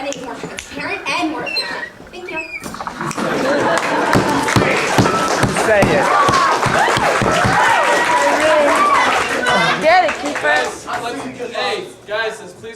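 An audience at a student debate breaks into applause, a dense, loud wash of clapping that swells through the middle and tapers near the end, with voices talking over it.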